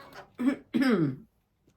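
A short cough followed by a longer, rough throat-clearing burst, close and alone, then quiet.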